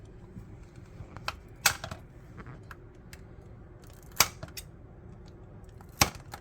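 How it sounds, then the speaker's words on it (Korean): Three crisp snips of scissors cutting through hardened tanghulu candy coating, spaced a few seconds apart, with faint handling clicks in between. "나중에 다 마르시면 가위로 커팅 시켜주면 됩니다"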